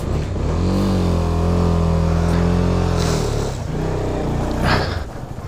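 A KTM Duke 250 motorcycle engine with a very stiff clutch that clacks runs loud and close, holding a steady drone, then easing and picking up again near the end, with no talking.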